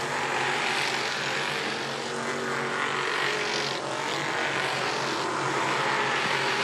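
Race cars running on the track at Devil's Bowl Speedway, several bunched together in a pack, a continuous loud engine roar that swells slightly as they pass, with no voices over it.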